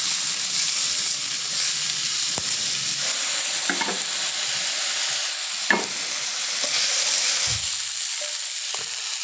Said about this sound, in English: Now we're going to let this saute until the onions and peppers are soft and everything is fragrant